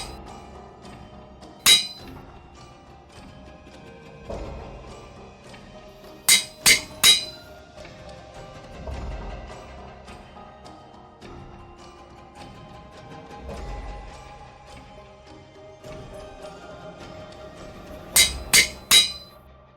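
Steel anvil forging in TerraFirmaGreg: sharp metallic hammer clinks in small clusters, a single strike then a double and a triple burst, spaced over a quiet, faintly humming game background.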